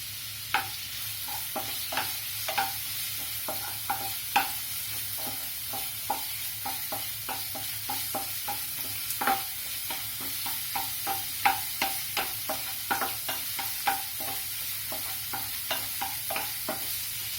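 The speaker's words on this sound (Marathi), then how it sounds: "त्याच्यामध्ये आपण आता कांद्याच्या पाकळ्या घालणार आहोत, आणि ते 1 मिनिट परतवणार आहे" Onion pieces being stir-fried in a pan for corn pulao, with a soft continuous sizzle under frequent sharp clicks and scrapes of a spatula against the pan, close and without talk.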